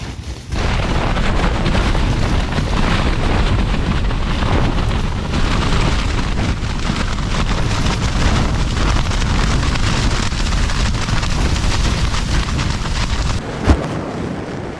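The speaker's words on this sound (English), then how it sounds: "because the wind was picking up" Strong wind roaring continuously at a winter wild camp on Christmas Day, a loud steady buffeting rush with occasional heavier gusts, no other sounds standing out.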